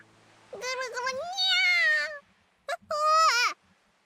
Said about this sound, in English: The black cat wraps itself around Machiru's leg like a fuzzy boa constrictor